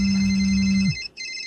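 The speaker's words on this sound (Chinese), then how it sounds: "债主的电话都快把我手机打爆了" A mobile phone ringtone trills loudly in steady repeated tones for about a second, then cuts off abruptly and briefly resumes, with no talking.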